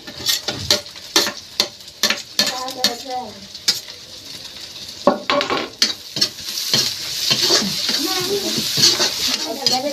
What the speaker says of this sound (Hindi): प्याज डाल देती हूँ, भुजा गया है तो।